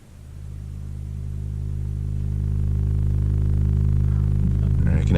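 A steady, low analog synthesizer oscillator drone from a Pittsburgh Modular system, with no control voltage, a buzzy harmonic tone, swelling slightly louder and holding unchanged, with a faint shift near the end.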